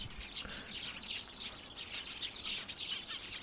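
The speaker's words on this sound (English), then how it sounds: "There was tons and tons of little birds in this fence, just chirping away." A flock of little birds perched in a fence in extreme cold chirps away steadily, many high overlapping tweets forming a busy, continuous chorus at moderate distance, with no voices.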